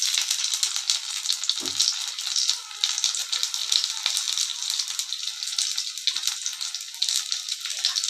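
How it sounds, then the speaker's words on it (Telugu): Stuffed brinjals (eggplants) frying in a pan of oil with cumin, mustard seeds and curry leaves, a steady close hiss of sizzling with a few small pops and one brief low clunk as pieces go in. "ఇప్పుడు ఈ మసాలా పెట్టుకున్న వంకాయల్ని ఒక్కొక్కటి ఇలా వేసుకోవాలి"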